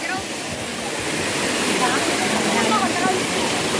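River water rushing steadily in Tuy, Batangas, a loud, continuous broadband wash that stays close and constant while people talk in the background.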